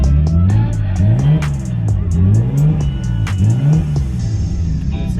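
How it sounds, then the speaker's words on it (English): A Nissan Skyline's engine revs up and down repeatedly in a steady wavering rhythm, close and loud, with sharp ticking clicks over the top. "if I give the car a few little revs"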